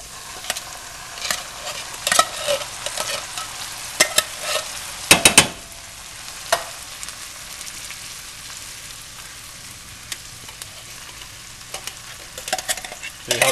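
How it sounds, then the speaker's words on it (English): Caramelized onions and beans fry and get stirred in a hot pan, giving a continuous crackling sizzle broken by sharp scraping and clattering stirs, loudest briefly near the middle. "the onions are caramelizing. Time to add the beans."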